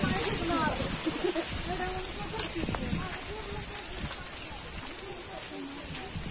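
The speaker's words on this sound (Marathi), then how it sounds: "पाऊस पण एकदम बारीकच आहे, जास्त पाऊस सुद्धा नाही." Light, fine rain falls outdoors in a hilly waterfall area on the way to Raigad fort, making a steady soft hiss with scattered patter that runs throughout the clip.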